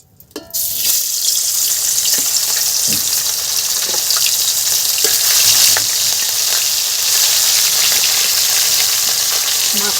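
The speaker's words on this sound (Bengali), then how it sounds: "আমি এবারে মাছ ভাজার জন্য কড়াইতে তেল দিয়ে দিলাম।" Fish pieces dropped into hot oil in a wok, starting with a sudden loud burst that settles into a strong, steady crackling sizzle for several seconds.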